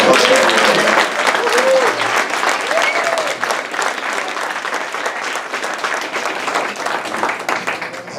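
An audience applauds for a cafe owner, sustained hand clapping that stays strong throughout, with a voice faintly heard over it at the start.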